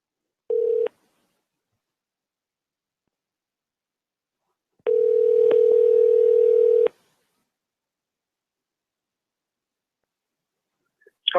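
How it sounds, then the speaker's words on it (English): A telephone call dialing out: a short ringback tone, a long silent gap, then a second sustained steady tone lasting about two seconds, heard close and clean with no talking. "Okay, it's dialing."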